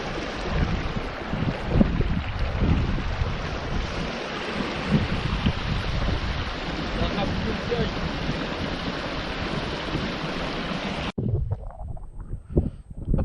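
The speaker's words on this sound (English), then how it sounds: "Check the stream out." A rushing moorland stream at the foot of Kinder Scout, a loud, continuous churn of water mixed with heavy wind buffeting the microphone, which drops away abruptly near the end, leaving quieter gusts.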